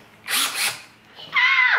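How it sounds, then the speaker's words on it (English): A power drill drills into a DIY fidget spinner in two short bursts, then whines as it winds down, loud and close, with no talking. "ask him how to change a drill bit"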